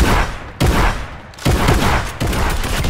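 Several loud bursts of gunfire crack out in a Fortnite match. They come as separate volleys with short gaps between them, and the shots sound close.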